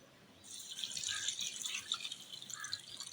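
Water pours into a kabab mixture of lauki and chana dal with garam masala, salt, ginger and crushed chilli, a splashing, trickling stream starting after half a second and continuing steadily to the end.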